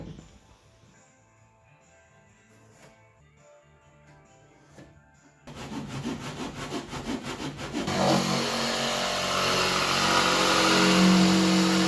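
Handsaw cutting through the wooden transom of a Michalak AF4 Grande 16 skiff, starting with quiet scattered taps before loud rhythmic rasping strokes build and grow steadier and louder toward the end, close up with no talking.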